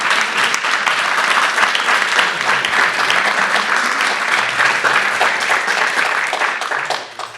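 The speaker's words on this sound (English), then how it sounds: "I'd like to just give a round of applause to our panelists today." Steady, dense applause from an audience for a panel at a community forum on immigration policy in Lancaster County, loud and sustained for several seconds before tapering off at the end.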